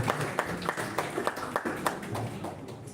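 Scattered clapping from an audience at a national-level oratory contest, a moderate patter of hands with a few sharper claps standing out over faint background voices.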